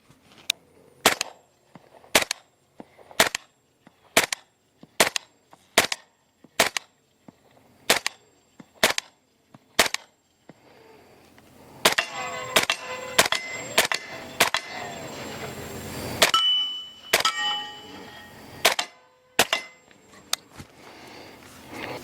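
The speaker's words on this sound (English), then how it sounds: "300 blackout subs, semi-auto." .300 Blackout subsonic rounds fired semi-auto through a Diligent Defense Enticer S suppressor, a steady series of sharp, evenly spaced muted cracks, then a quicker, denser string of shots with clinking and ringing afterward.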